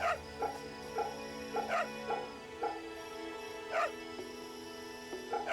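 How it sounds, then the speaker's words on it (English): A dog in Fate/Samurai Remnant yips and whimpers softly while being petted, giving short, high, repeated cries spaced through the moment, alongside background game music. "And then we pet the dog, very important."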